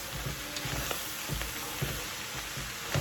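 Smoked herring frying in oil in a home kitchen, giving a steady close sizzle broken by scattered sharp pops, with no talking.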